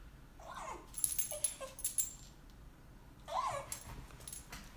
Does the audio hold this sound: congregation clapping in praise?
no